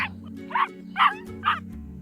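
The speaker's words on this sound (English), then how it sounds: "A dog in the car next to us noticed me, and his head was out the window, and his tongue hung from his mouth." A dog leaning out of a passing car's window yips in a storybook sound effect: three short, sharp barks evenly spaced over a steady low hum.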